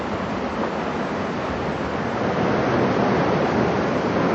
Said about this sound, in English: We come to the giant rapid within a few days of the end.